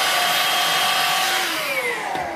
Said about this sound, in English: so I can just vacuum that up.